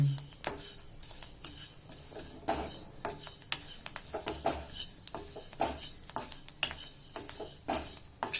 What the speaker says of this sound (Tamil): நல்லா அப்படியே பொரியுது டொப்பு டொப்புன்னு